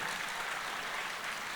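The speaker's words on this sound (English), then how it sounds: "Thank you for the applause." Audience applause at a Big Brothers Big Sisters of Metro Atlanta gala, a brief, fairly faint and even patter of clapping from the crowd.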